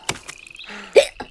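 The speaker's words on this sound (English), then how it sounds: "I've got the hiccups." Quick, squeaky cartoon hiccups in a children's animated show, a few short sharp bursts over about a second, close and with no talking.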